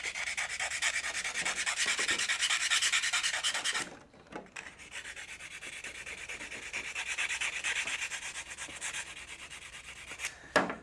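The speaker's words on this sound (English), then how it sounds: "So I got my 9-step sanding stick here, and I'm just cleaning up the corners." A 9-step sanding stick rubs the corners of a Yokomo Rookie Speed RS1.0 RC car part in close, steady scraping strokes, with a brief pause partway through before the sanding resumes.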